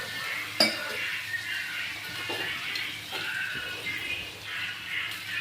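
Ground spice paste with chillies stirred in a cooking pan for a quail fry, a soft continuous scraping with a metal clink near the start, no voices.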